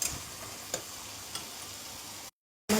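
Spice paste for a Bengali-style taro curry fries steadily in a pan, a soft continuous sizzle with a couple of brief louder crackles, cutting to silence near the end.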